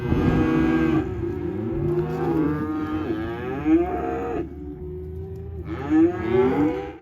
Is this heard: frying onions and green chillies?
no